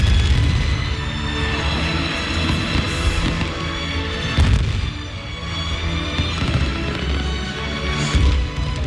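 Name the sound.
fireworks display exploding at a stadium celebration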